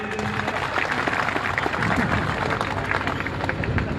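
Crowd applause at a political rally marking Ambedkar Jayanti in Balesar, a dense steady wash of many hands clapping alongside background crowd noise throughout.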